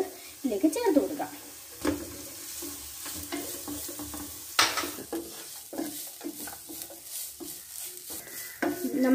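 Grated beetroot and onions are stirred and sautéed in a pan, with soft sizzling under repeated scraping and clinking of a utensil against the pan, close and moderately quiet throughout.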